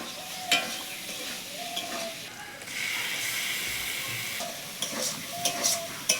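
Spices such as cumin, bay leaf and dried chili frying in hot oil with potatoes, a steady close sizzle and hiss with stirring scrapes, rising to a louder burst partway through.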